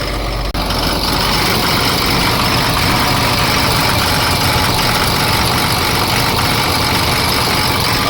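A Cummins diesel engine idles rough with a misfire, a loud, close, steady low rumble that runs unbroken for the whole stretch without any talking.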